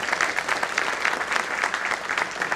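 An audience at a public lecture gives warm applause: continuous, even hand clapping from many people, moderately loud and sustained, with no voices over it.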